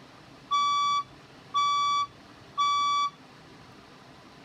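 Building fire alarm test tones: three identical electronic beeps, each about half a second long, evenly spaced about a second apart, loud and clear against a quiet background.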